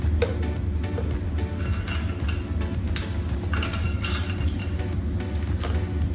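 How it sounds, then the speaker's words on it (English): Ice cubes clink and rattle into a blender jar of mango shake made with ice cream, a steady run of glassy clinks over a low, constant hum. "Then we add ice cubes."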